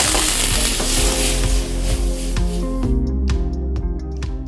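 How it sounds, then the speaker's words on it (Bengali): Garlic sizzles in hot oil for a high-heat stir fry, a loud continuous crackling hiss with stirring clatter and scraping spatula hits, the sizzle easing as the pan quiets toward the end. "আমরা তেলে একটু গার্লিক দিয়ে দিলাম।"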